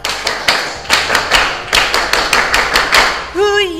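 A group performs the Indonesian scout clap (tepuk pramuka), loud, close unison claps in a quick patterned rhythm of grouped beats, ending as a voice breaks in.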